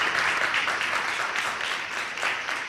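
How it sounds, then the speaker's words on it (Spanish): Live audience at an Aragonese-language comedy monologue applauding for Raúl López: a steady, dense wash of clapping that holds throughout at moderate loudness, with no voices over it. "un aplauso para Raúl López"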